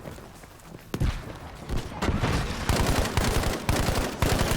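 Breda PG 1935 firing in Battlefield 5, several sharp bursts of shots in quick clusters with a rapid rhythm, fairly close in a busy game mix.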